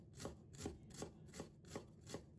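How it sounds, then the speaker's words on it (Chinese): Fresh ginger being minced with a knife: six steady, evenly spaced chops, close and fairly quiet, with no voices. "再准备1块生姜，先切片， 再切丝，然后切成姜末"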